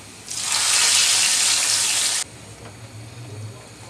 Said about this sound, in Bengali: এবার দিয়ে দিচ্ছি বাগার